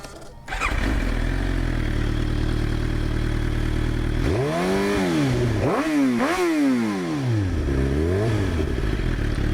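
A 2023 Suzuki GSX-R 750 motorcycle with an M4 exhaust fires up and settles into a loud, steady idle. It then gives several sharp throttle blips that rise and fall, ending with a softer rev. No one speaks.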